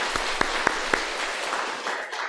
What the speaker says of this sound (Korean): 우리 박수로 환영했습니다.